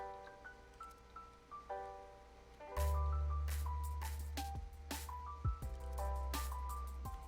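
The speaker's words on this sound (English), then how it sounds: "Splash." A splash of water in the video game Stormworks during a floating oil rig load test: a heavy low surge lands midway and rolls on, with droplet-like ticks and bursts over a backdrop of tonal game music.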